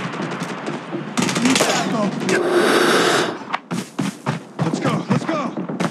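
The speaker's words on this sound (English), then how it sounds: "Sentry gun deployed." A sentry gun fires in the Call of Duty Mobile video game during a multiplayer ranked match, with a loud sustained burst of automatic gunfire, then scattered shots and thumps, while game voice lines play.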